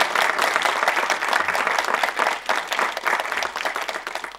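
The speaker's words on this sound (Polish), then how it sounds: "poproszę o repetycję, powtórkę oklasków dla pana premiera ze względu na te jego osiągnięcia życiowe" An audience at a diocesan sobriety congress in Górsk claps for the prime minister, dense sustained applause filling the hall at steady strength throughout.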